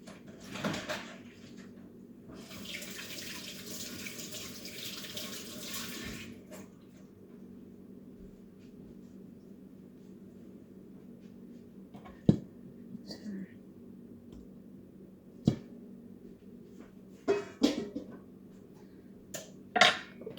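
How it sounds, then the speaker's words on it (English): A pan being washed under a running kitchen tap: a steady close rush of water for about six seconds, then it stops, leaving quiet room tone with a few faint knocks and clinks. "So we're gonna wash our pan."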